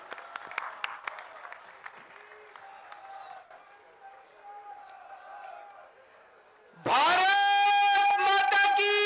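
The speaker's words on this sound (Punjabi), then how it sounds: "ਖੜੇ ਹੋ ਕੇ ਸਾਰੇ ਸਵਾਗਤ ਕਰੋ ਤਾੜੀਆਂ ਦੇ ਨਾਲ ਅਰਵਿੰਦ ਕੇਜਰੀਵਾਲ ਜੀ" A political rally audience in Jalandhar claps to welcome Arvind Kejriwal, light scattered applause for a few seconds that fades to a murmur before loud music abruptly blasts in near the end.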